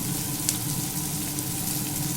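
Capsicum and onion frying lightly in a pan for a spicy paneer dish, a steady close sizzle with a faint hiss of oil running evenly throughout, no voices.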